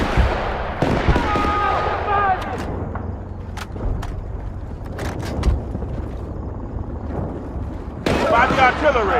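Artillery fire in the video game Battlefield: Bad Company, a series of sharp blasts and booms spread across a rumbling battle din, with voices shouting between the explosions.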